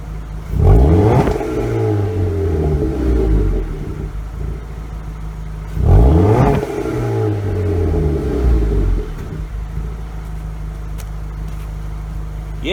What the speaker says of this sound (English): I'm going to let you hear the exhaust.